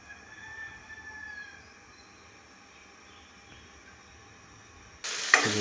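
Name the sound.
oil sizzling in a kadai (wok)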